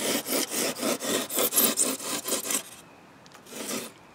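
Hand rasping and rough shaping of wood with a blade: a steady series of about ten rough back-and-forth scraping strokes, close and moderately loud, then a pause and one last stroke.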